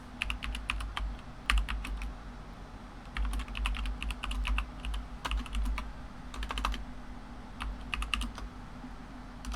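Rapid bursts of typing on a computer keyboard, close and fairly quiet, clustered into several flurries of clicks separated by short pauses, with a low steady hum underneath and no talking.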